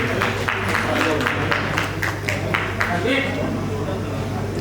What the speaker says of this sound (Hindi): थोड़ी जोरदार तालियां बजाएं।